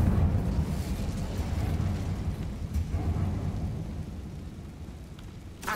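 A fire spell cast in Hogwarts Legacy, heard as a steady, loud rumbling roar with crackling texture that swells and holds for several seconds, then eases slightly before a short flare at the end.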